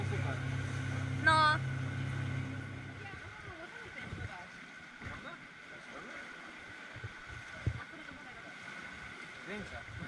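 A motorboat engine hums steadily over the sea off Zakynthos, with wind and splashing, while people talk intermittently nearby.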